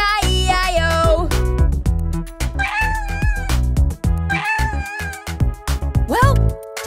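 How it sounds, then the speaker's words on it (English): Cartoon cat meows repeatedly in a children's farm song, the sung meows rising and falling over a bright musical backing with a steady beat. "And on his farm he had a cat. E-I-E-I-O. With a meow meow here and a meow meow there."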